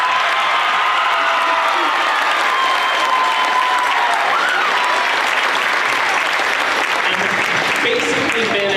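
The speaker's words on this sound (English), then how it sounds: "can we give her a round of applause" A concert audience at a school band's mid-year concert gives loud, sustained applause with cheering and a few whoops, clapping blending into a continuous roar; voices in the crowd mix in.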